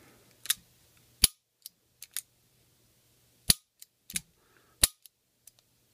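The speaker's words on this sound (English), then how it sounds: "single action goes into cylinder, locks up. Cylinder cycles all the way around." Sharp metallic clicks from a Forehand & Wadsworth .38 revolver as its cylinder is cycled and locks up: a dozen irregular close snaps, some louder than others, in near silence.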